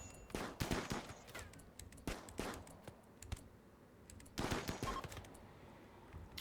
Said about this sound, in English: Okay, Helene, you took some gunshots from us.